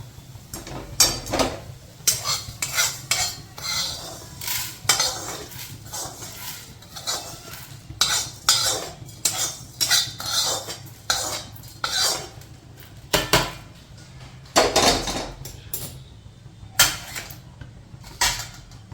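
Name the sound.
spoon scraping roasted coriander out of pan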